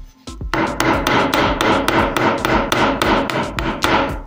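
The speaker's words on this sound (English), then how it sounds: "when you hit it with a hammer" A hammer strikes a brittle tantalum anode again and again, making sharp, loud, crunchy blows in a steady rapid rhythm, roughly three per second, close up with no talking.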